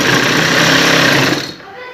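A sewing machine stitches a shalwar cuff with a fast, dense mechanical chatter for about a second and a half, then stops abruptly, leaving quiet room tone.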